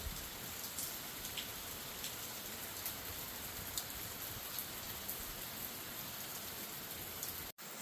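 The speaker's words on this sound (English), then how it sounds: "if it wasn't for the fact that it's summertime, this rain actually feels good." Steady summer rain falls continuously, a dense even hiss of drops on surfaces with occasional louder patters, close by and uninterrupted, with no voices.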